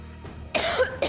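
A woman coughs in an indoor domestic scene, with a soft throat sound first and then two harsh, close coughs in quick succession.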